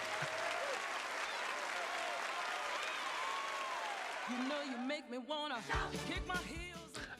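An audience applauds in the film Sister Act, dense sustained clapping that fills most of the stretch before giving way to louder voices talking over it.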